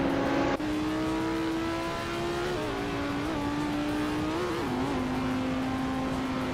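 Race car engines in a racing video game, including a Dodge Viper, drone in a steady, fairly loud whine. The pitch holds mostly even with small rises and dips as the cars run the straight sections, and no one speaks.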